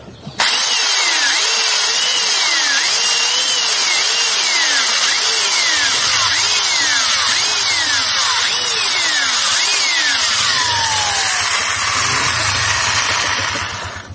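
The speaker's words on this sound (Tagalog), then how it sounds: "kailangan natin butasan para bumaon yung pako mga kabukid." Power drill boring a hole into hard coconut wood, its motor whining in repeated rising and falling surges, loud and close, running continuously for about fourteen seconds before stopping.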